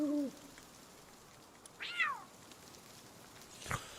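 A cat pal in the video game Palworld gives a few short meows spread over several seconds against quiet background ambience, with no talking.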